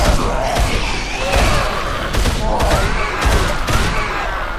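Legendary AK-47-style assault rifle from Dead Island firing in repeated bursts of loud, sharp shots, close and dominant throughout.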